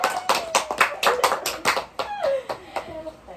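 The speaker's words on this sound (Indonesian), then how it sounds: "Tepuk tangan." A small group in a community guidance session claps hands in a quick irregular patter of close, distinct claps, with children's voices chiming in over them.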